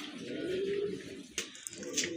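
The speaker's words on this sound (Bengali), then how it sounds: "এখানে কিন্তু এক জোড়া গিয়াশুল্লি কবুতর আছে" A pigeon coos close by in a low, throaty rolling call, followed by a few soft clicks and faint chirps.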